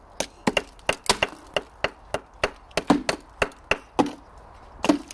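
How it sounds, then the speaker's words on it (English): Ice being cracked outdoors in freezing temperatures, a steady series of sharp, loud strikes roughly every third of a second, each a crisp crack, close by with no talking. "Crack the ice, this one."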